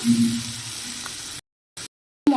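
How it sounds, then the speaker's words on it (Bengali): Whole spices fry in hot oil with a moderate, steady sizzle and a faint low hum, then the sound cuts off abruptly, leaving near silence broken by a couple of brief returns of the frying. "একটু ভালো করে তেলের মধ্যে আমি গোটা সব মশলাগুলোকে ভেজে নেব"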